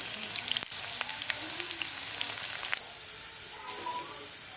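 A medium-size onion frying in hot oil in a pan while preparing Kathiawadi vagharelo rotlo, giving a steady close sizzle with a few light pops and stirring clicks.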